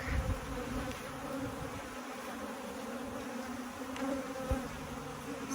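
Africanized honey bees at a hive during requeening make a dense, continuous buzz that stays steady and fairly close throughout, with no talking.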